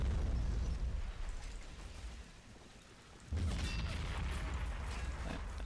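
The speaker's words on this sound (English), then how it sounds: "Bombard them a bit while we're at it." Artillery bombardment in the World War II strategy game Men of War, heavy rumbling explosions, loud at the start, easing, then a fresh powerful blast with a sustained booming roar.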